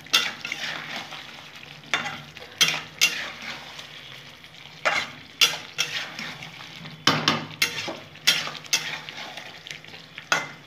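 Spatula scraping and clacking in a pan as egg do pyaza is stirred together with fried onions, sharp scrapes repeating every second or so over a low sizzle, with no talking.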